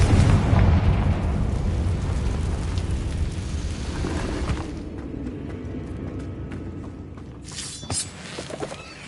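A Confringo fire spell explodes in the Hogwarts Legacy video game with a loud, sustained boom and rumbling roar that slowly fades, followed by scattered crackling debris near the end.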